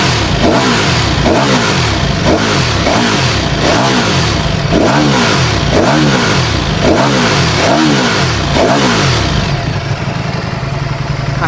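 Ducati Panigale V4R with a high-revving engine and 15,000 RPM limit blipped through its exhaust in neutral: about nine sharp, evenly spaced throttle revs, loud and close, before settling to a lower drone.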